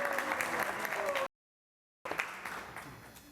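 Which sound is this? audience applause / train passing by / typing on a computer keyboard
audience applause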